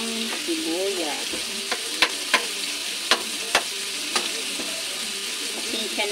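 Onion tipped into garlic already frying in a pan for sotanghon con carne gives a steady broad sizzle, stirred throughout, with several sharp utensil clacks against the pan and a neighbour's radio faintly audible underneath.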